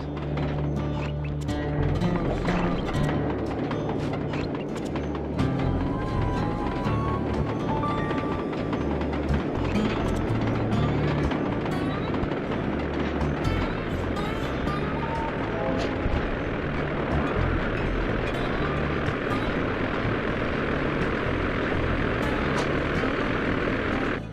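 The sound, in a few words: ice plane engine in the Sly Cooper video game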